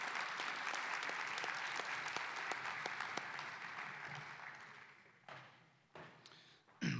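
Sustained audience applause at a high school valedictorian ceremony, a dense wash of many hands clapping that gradually thins and fades, ending in a few scattered claps and small bumps of room noise.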